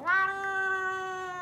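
A British cat gives one long, steady meow, close and loud at the start and then holding an even tone, heard alone.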